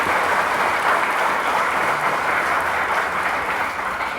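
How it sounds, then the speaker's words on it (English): Steady, loud applause from an audience at a Martin Luther King Jr. Commission event in Harrison, Arkansas, holding a dense wash of clapping throughout with no talk over it. "Please give them a round of applause."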